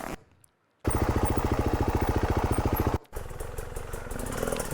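Off-road dirt bike engine during a forest off-road motorcycle race, a loud, steady, close buzzing drone with rapid pulsing, briefly cutting out before resuming at a lower, rougher level.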